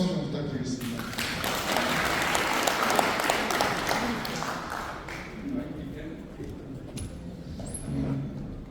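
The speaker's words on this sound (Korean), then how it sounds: "회장님께 큰 박수 좀 부탁드리겠습니다" An audience at a Daegu-Gyeongbuk hometown association lecture in 2024 gives a hearty round of applause, dense clapping that swells and then thins toward the end, with some voices in the room.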